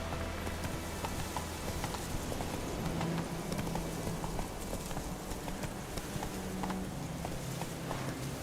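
Hooves of Roach, the horse in The Witcher 3, clip-clop steadily and close, a continuous trotting rhythm under a hiss like rain falling on the ground.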